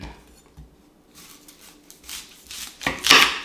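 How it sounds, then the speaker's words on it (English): A knife cuts an onion for salsa on a board, with scattered soft taps at first, then louder, close slicing and scraping strokes toward the end. "I'm just gonna go ahead and start by cutting the onion"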